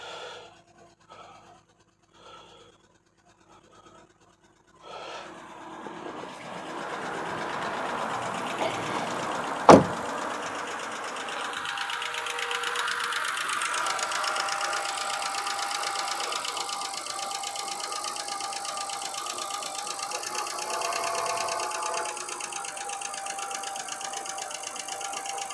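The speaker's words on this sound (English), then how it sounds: "you can hear there's a lifter ticking noise there" BMW engine cranking and catching, then settling into an idle with a faint rapid lifter tick running under the steady hum, close by and alone.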